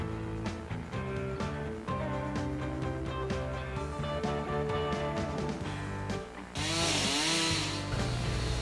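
A chainsaw cuts the final saddle notch in a log for a log cabin, its engine droning steadily and close before surging into a louder, higher rev near the end.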